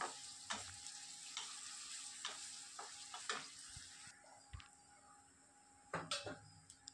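Onion frying in a pan, a steady soft sizzle with repeated sharp clinks and scrapes of a utensil stirring against the pan, no one talking.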